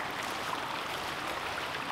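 Creek water flowing past a spot among ponderosa pines, a steady, close, continuous broadband rush with no talk over it.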